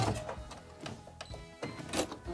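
A sewing machine backstitching fabric runs in short stop-start bursts of rapid mechanical whirring and clatter, close by and moderately quiet.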